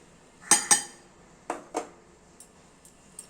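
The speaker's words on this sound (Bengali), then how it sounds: "লবণ চিনি ডিমের সঙ্গে মিশিয়ে নিচ্ছি।" Utensil clinking against a bowl while salt and sugar are mixed into two cracked eggs, a few quick pairs of taps up close with fainter ticks after, no talking.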